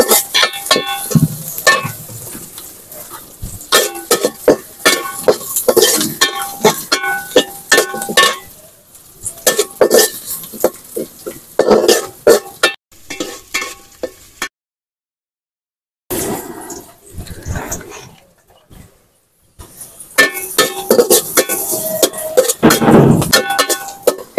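Beef and chilies fry and get stirred in a pan, loud bursts of sizzling and scraping clatter coming in irregular waves, with a brief silent gap midway.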